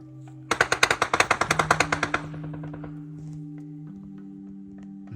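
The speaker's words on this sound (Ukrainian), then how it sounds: "Там стріляють." A rapid burst of about fifteen sharp machine gun shots rattles off in quick succession at a front-line infantry position, then stops, leaving a low steady hum.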